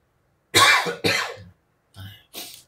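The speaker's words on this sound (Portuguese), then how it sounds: "Minha tosse veio agora, pessoal." A person coughs in a few short bursts: two strong coughs close together, then two softer ones after a brief pause, recorded close up in an otherwise quiet room.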